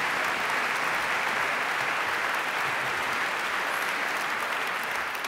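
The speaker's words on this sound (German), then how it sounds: "Ich kann Ihren Applaus absolut nachvollziehen." Sustained applause from a concert audience at a Hollywood film-music gala in Vienna, a dense, steady wash of clapping that stays loud and even throughout with no voices rising above it.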